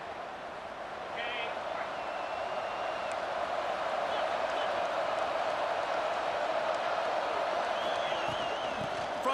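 Crowd noise from EA Sports College Football 26 fills the stadium as a continuous, even roar with scattered clapping and cheers, rising a little after the first second and holding steady.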